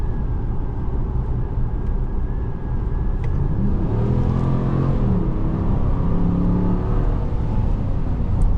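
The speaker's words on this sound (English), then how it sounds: "Well, we're gonna do a full acceleration." A 2023 Ram 1500 Classic pickup truck under full acceleration, its engine a loud, steady interior roar that climbs in pitch with rising revs, heard from inside the cab with no talking.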